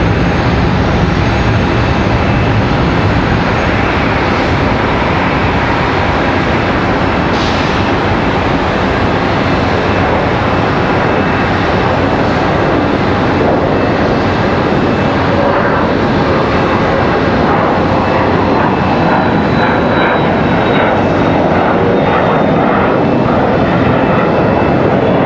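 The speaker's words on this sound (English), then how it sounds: "We've got an exec jet up for departure." An executive jet rotates early and climbs out from Charlotte Douglas airport, its engines a loud, sustained roar that fills the whole stretch without letting up.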